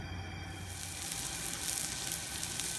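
Steady, dense sizzling of steaks on a hot barbecue plate, loud and close, rising slightly after the first second and continuing without pause.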